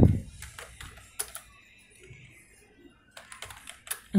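Keystrokes on a computer keyboard while entering Linux terminal commands, clustered bursts of close, crisp clicks with a pause in the middle and no talk.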